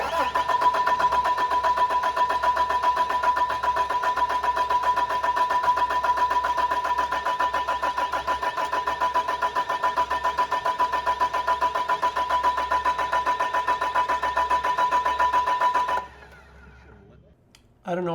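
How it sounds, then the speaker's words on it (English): A newly built engine cranks steadily on its first start attempt for about sixteen seconds without firing, producing an even, droning starter whir that then cuts off. "we're going to start the engine for the first time and listen to it run"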